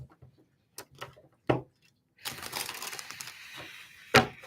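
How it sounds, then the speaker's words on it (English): A deck of tarot cards being shuffled at close range, with a few scattered taps and riffles, then a longer burst of flapping, rustling cards ending in one sharp snap as the deck is squared. "This will be the shuffle."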